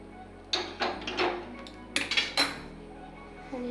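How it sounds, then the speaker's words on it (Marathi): Spoon scraping and clinking against a metal bowl while mustard oil is mixed into spice mix for raw mango pickle, a handful of close, sharp clanks and scrapes at irregular intervals over a quiet room. "मोहरीचं तेल थोडंसं थंड झाले, आता ते मसाल्यामध्ये मिक्स करते मी थोडं"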